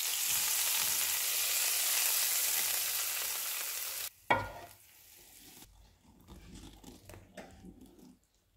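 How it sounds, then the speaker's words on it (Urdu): Garlic cloves fry in hot oil for a tadka for kadhi pakora, giving a loud, steady, close sizzle for about four seconds that stops abruptly, followed by quieter clinks and rustling. "اب اس میں لہسن کے جوے ڈال دیں گے اور ان کو گولڈن براؤن ہونے تک فرائی کریں گے"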